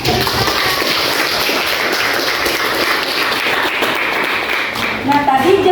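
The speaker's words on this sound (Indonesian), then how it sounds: "masih tepuk tangan untuk Jelita" Applause in a junior high school religious education classroom, a continuous patter of many hands clapping for several seconds, with a voice rising near the end.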